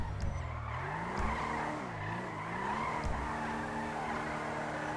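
A Lada drifting in GTA 5 sends out a sustained tire skid and squeal over a revving engine whose pitch rises and falls, moderately loud and continuous.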